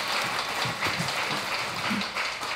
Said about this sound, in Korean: 상 주시는 주님께 큰 박수 한번 드리세요